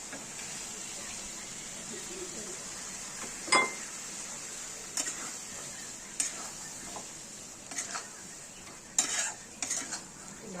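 Fried potatoes stirred into spice masala in a pan for Kashmiri aloo dum, a spoon scraping and clinking against the metal in scattered knocks over a soft, steady sizzle, with no voices.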